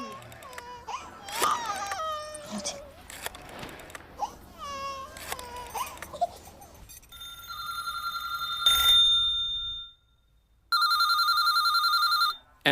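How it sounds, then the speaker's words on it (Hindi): A telephone rings in two long electronic trills after a stretch of a baby's crying and whimpering. "एमपी के घर बेल जा रही है,"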